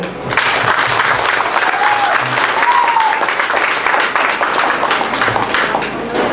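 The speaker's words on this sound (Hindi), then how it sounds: "नवीन पटनायक के नाम से एक बार जोर से ताली मार दे।" Crowd applause at a village panchayat welfare scheme meeting in rural Odisha, steady dense clapping filling the whole stretch, loud and close, with faint voices mixed underneath.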